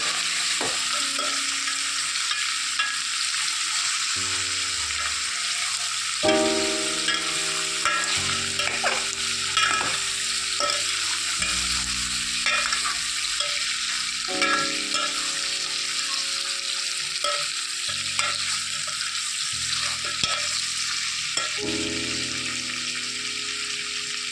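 Beef and cucumber curry stirred in a pan, with a constant sizzle under repeated scraping and clattering strokes of the spoon, close and steady throughout.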